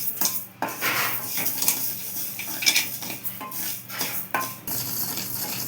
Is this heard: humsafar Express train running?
no